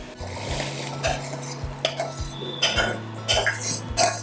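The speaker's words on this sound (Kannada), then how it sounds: "ಈ ಬೆಂದಿರೋ ಉಗ್ಗಿನ ತೆಗೆದು ಒಂದು ಪಾತ್ರೆಗೆ ಹಾಕ್ಕೊಳ್ತೀನಿ" Cooked urad dal huggi scraped and spooned into a vessel, with repeated metallic clinks of a ladle against a pot and soft stirring scrapes in an uneven rhythm, close and fairly loud.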